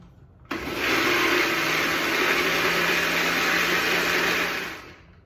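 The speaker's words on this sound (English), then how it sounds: "we're just gonna blend this up until it's smooth" A countertop blender whirs a cheesecake mixture until smooth, starting abruptly and holding a loud, steady roar for about four and a half seconds before winding down, with no talking.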